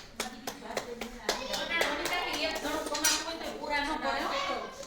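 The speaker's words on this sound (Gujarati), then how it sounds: "બેન જો અહીંયા રોટલા બનાવે છે ગરમે ગરમ" A woman patting hot bajra rotla flatbread dough between her hands, a quick series of close slapping pats that later blurs into voices talking over the kitchen.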